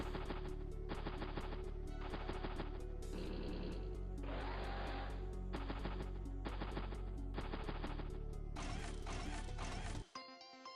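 Tank artillery fires in Advance Wars: Days of Ruin, repeated blasts and crunchy impact bursts over steady game music, ending in a sudden cutoff.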